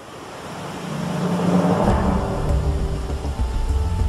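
Trümmelbach Falls, a glacial waterfall in the Swiss Alps, roars as a dense, steady rush of water that swells in loudness and then holds at a full, broad wash.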